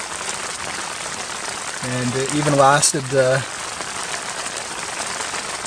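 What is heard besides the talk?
rain falling on mountain camp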